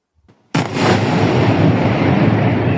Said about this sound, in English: in this video, you can hear some secondary explosions.